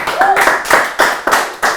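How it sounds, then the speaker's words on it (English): Audience members at a talk show clap in a few loud, close bursts, with distinct rhythmic pulses of hand claps repeating roughly every quarter second, while a voice speaks briefly at the start. "Clap for them."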